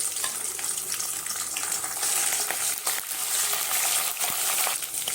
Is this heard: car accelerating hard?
no